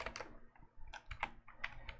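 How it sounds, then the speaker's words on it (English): Rapid, uneven keystrokes on a computer keyboard while writing Python code, crisp close clicks in short bursts with a brief pause, no speech. "let me just finish typing here"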